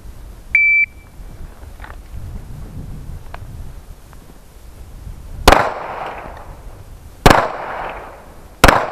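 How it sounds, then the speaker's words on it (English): Three sharp pistol shots ring out on a tactical pistol course, evenly spaced at roughly two-second intervals, each loud crack trailing off quickly, after an earlier short electronic start beep. "You have 10 seconds to deliver 3 rounds."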